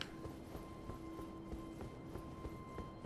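A horse gallops through the open-world game Elden Ring, with quick, steady hoofbeats thumping alone at low volume over a faint hum and a steady tone.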